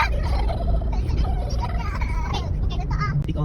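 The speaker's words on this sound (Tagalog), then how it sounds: "ang laki ng itik oh" Large ducks call repeatedly from nearby along a provincial road, harsh squawks layered over a steady engine rumble and faint voices.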